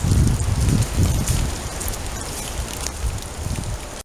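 Steady rain falls and patters on surfaces with a dense, continuous hiss, heavier and lower at the start and then easing slightly.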